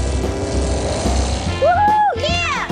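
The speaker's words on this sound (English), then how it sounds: "Captain Pica requesting to land at the nearest grip due to possible bad weather." Cartoon airplane landing: a loud propeller-engine drone joined by whistling tones that bend up and down in pitch, all within a few seconds.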